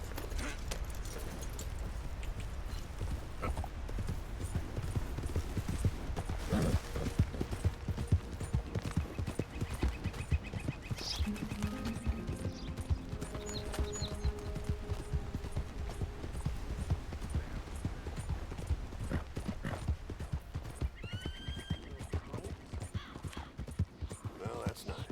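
A horse gallops in Red Dead Redemption, its rapid clip-clop hoofbeats driving steadily and close for the whole stretch, with a brief voice and a few game sounds over the rhythm.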